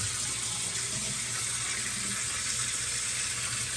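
Water pours steadily into the tank of an Arctic Air Pure Chill cooler, a continuous close splashing rush without pauses or voices.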